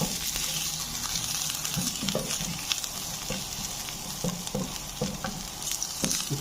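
Chopped garlic sizzles in about two teaspoons of oil in a frying pan, a steady close crackle with occasional stirring scrapes and small pops, no talking.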